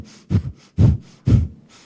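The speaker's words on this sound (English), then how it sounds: "breath of fire is an even inhalation, exhalation fairly quickly" Breath of fire breathing exercise: three rapid, forceful nasal breath pulses in an even rhythm, close and moderately loud, with short pauses between, no talking.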